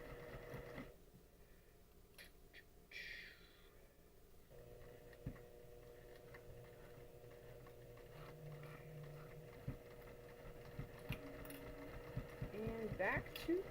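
A home sewing machine stitching through a quilt and finishing with a back stitch: a steady mechanical whirr that starts and stops, with a person talking quietly over it.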